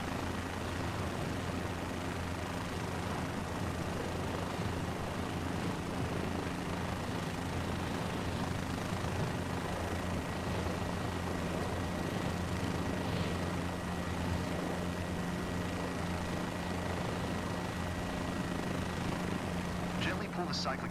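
Helicopter rotor and engine from a flight simulator game give a continuous, steady mechanical drone with a low tonal hum, constant in level and close throughout.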